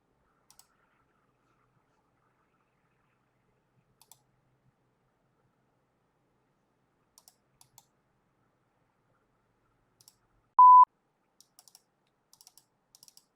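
Computer mouse clicking in Fusion design software: sparse, faint, isolated clicks with a few quick pairs like double clicks, spread across near silence, plus one short tonal beep partway through.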